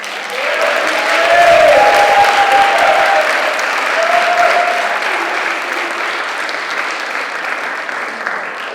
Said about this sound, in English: Please give a loud round of applause for Jimmy Madon